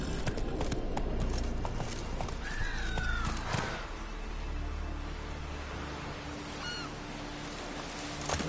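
Roach, a horse in a PS4 video game, clip-clops along at a steady walking pace, hooves loud and close, with a brief whinny rising partway through over a constant background hiss.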